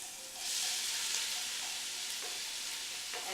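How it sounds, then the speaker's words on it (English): Onions sautéing in olive oil in a preheated pot, a soft steady sizzle that swells after a quiet start, with faint stirring clicks and no talking. "I have been sauteing the onions for about 3 to 4 minutes."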